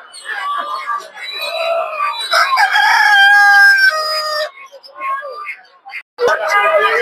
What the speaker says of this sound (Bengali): অনেকগুলো টাইগার মুরগি আছে বড় বড়